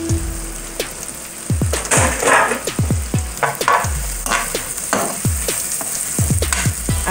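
Chopped onion sizzling in hot oil in a pan, with frequent scraping stirs of a spoon cutting through a steady crackling fry, close and fairly loud with no talk.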